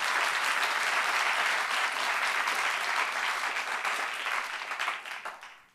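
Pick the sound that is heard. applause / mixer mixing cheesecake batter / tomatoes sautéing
applause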